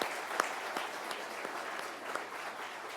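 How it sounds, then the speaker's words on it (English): Sparse, scattered clapping from a small crowd at a swearing-in ceremony, steady and moderate in volume, with a few sharper individual claps standing out. "Let's give her a round of applause."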